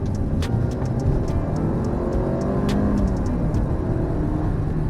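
A Mercedes GLA 250 engine roars steadily under load, a loud continuous rumble with sharp ticking transients, sounding like a vehicle pulling away hard.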